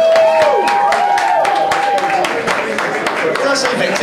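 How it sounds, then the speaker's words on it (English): Live audience applause for volunteers at a mind-reading stage show, dense clapping throughout with a voice and a few tonal whistles or whoops over it. "Can we get a round of applause"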